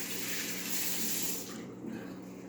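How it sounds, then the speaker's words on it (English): Water from a kitchen tap runs steadily into a sink as hands are washed while making chicken soup, a broadband rush that thins out midway through the short stretch, with no talk. "just going to wash my hands real quick"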